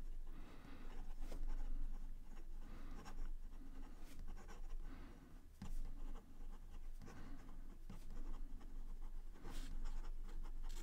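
A black-and-white swirl Bossman fountain pen moving fast across paper, giving a close, continuous scratchy scribble with quick strokes and short lifts, quiet and alone.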